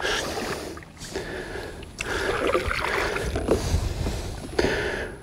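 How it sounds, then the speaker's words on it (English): A paddle works the water beside a Crescent Kayaks SUP+ with a seat riser, giving steady splashing and swishing strokes over a broad rush of water and wind, close and continuous. "I'm gonna go paddle."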